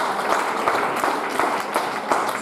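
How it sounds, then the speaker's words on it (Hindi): Seminar audience in Varanasi bursts into vigorous applause, a dense, steady wash of many hands clapping that carries on without pause. "बहुत जोरदार ताली होनी चाहिए"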